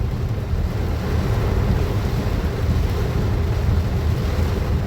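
Torrential rain falls over Patiala, producing an even, unbroken wash of loud hiss and low rumble that stays steady throughout, with no voices.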